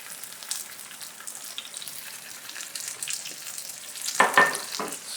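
Oil crackles under a garlic pepper steak in a pan, a soft, continuous sizzle with a few brief louder spits near the end.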